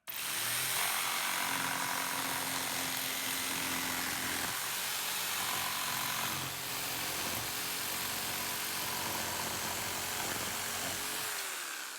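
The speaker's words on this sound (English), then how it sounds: "I'll just go ahead and get the blade up to the material, and then I'll start cutting." A jigsaw cuts a straight strip from a wooden board, a continuous close buzzing saw roar that runs for about eleven seconds with slight changes in pitch partway through before stopping, with no talking.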